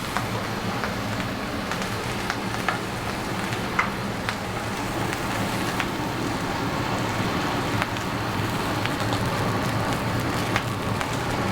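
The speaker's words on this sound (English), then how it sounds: "We're steaming the corn." Continuous hissing sizzle of corn steaming on a hot griddle, with scattered small pops and crackles throughout, no voices.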